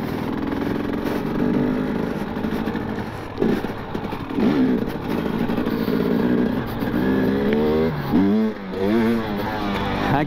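Enduro motorcycle engine revving hard during a wheelie on rough terrain, a steady loud drone with rising and falling pitch sweeps near the end, close to the rider.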